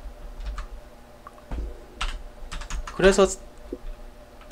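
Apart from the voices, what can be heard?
typing on new computer keyboard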